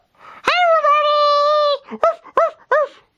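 A person's voice imitates a dog, starting with a long drawn-out howling note and then three short, sharp yaps, close and loud.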